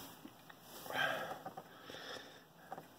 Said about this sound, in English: Sorry for the sniffling.